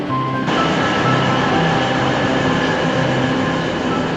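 An Australian train rumbles steadily throughout, a loud continuous roar of rail noise with a faint tone fading early on.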